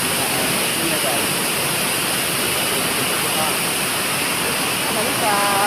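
Waterfall at Subik Tuha near Lake Ranau, a dense, steady broadband rush of falling water, loud and constant throughout, with faint voices briefly toward the end.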